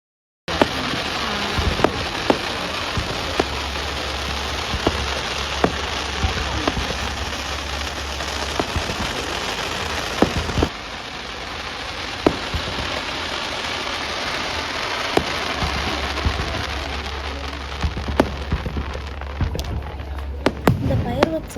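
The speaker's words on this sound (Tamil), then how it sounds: "ஈவினிங் நடந்த ஃபயர் ஒர்க்ஸை தான் நம்ம இந்த வீடியோவில் பார்க்க போகிறோம்" A July 4th fireworks show in the USA at night, heard as a long continuous wash of crackling bursts and sharp pops with occasional louder reports, steady throughout and seemingly at a distance.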